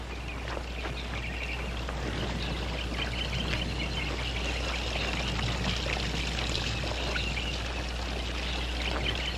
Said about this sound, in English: Fill up the water bags.